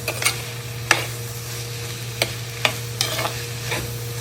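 Shallots and sliced green chillies sauté in a pan for a Kerala karimeen dish, a soft continuous sizzle over a steady low stove hum, punctuated by sharp spoon scrapes and taps at irregular intervals.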